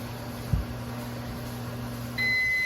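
A microwave oven hums steadily with a low electrical drone while melting Starburst candy, a small clunk early on, then a high beep tone sounds near the end.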